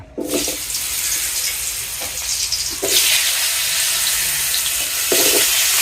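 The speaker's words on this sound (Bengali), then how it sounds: "মাছ রান্নার জন্য মাছগুলো আগে ভেজে নিচ্ছি" Fish sizzles in hot oil before going into a Bangladeshi village fish curry, a steady close crackling fry with wet bursts and louder swells as pieces are turned, no talking.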